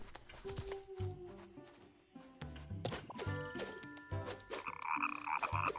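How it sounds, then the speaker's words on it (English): Small frog croaking in The Plucky Squire video game, repeated short croaks woven into busy, tonal game music and effects. "Oh, look at that, it's a little frog."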